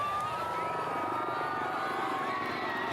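An Indian Air Force helicopter performs aerobatics at the Chennai air show, its rotor and turbine giving a steady droning whine with a slowly shifting pitch, heard from a distance.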